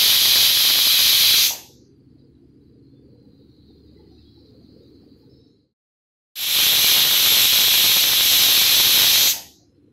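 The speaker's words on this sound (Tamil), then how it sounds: "இப்போ நல்லா நாலஞ்சு விசில் வந்துடுத்து" A pressure cooker cooking dal on the stove lets out two loud, long steam whistles, each a sharp hissing blast lasting a few seconds, separated by a quieter stretch of low bubbling.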